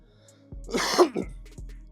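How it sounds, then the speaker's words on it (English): A single harsh cough or throat-clearing burst, close and fairly loud, followed by a brief quieter rasp. "coughing ain't never gonna stop"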